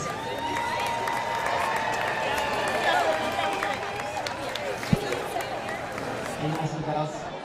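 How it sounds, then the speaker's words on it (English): Audience applause and cheering at a poolside deep-water solo climbing competition, a broad steady wash of clapping and crowd noise with a sharp knock near the end and voices mixed in. "Can we have a big round of applause for the ladies?"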